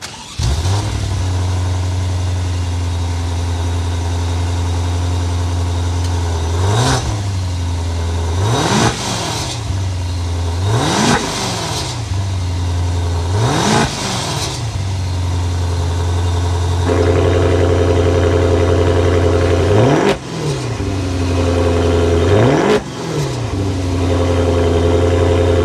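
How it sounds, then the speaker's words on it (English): A 2022 Maserati Levante Modena S with a Ferrari-built twin-turbo V8 starts, then idles with a steady deep exhaust note broken by repeated sharp revs that rise and fall, loud and close, with no talking. "start it up so you can hear that exhaust note."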